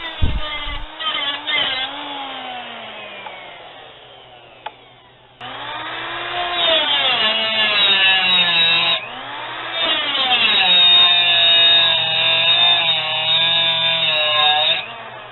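A power tool cuts knife steel and throws sparks, giving a loud, sustained whining grind that rises and falls in pitch. It pauses briefly, then resumes with stronger harmonic squeal over a steady motor hum.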